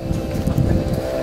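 A boat engine drones low and steady with wind buffeting the microphone, a close, continuous rumble, on the Sukau river in Borneo.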